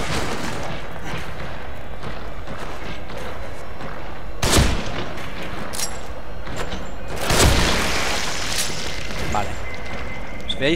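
Gunfire in the survival horror video game The Evil Within, two sharp booming shots a few seconds apart, standing out from a steady game soundscape while someone talks throughout.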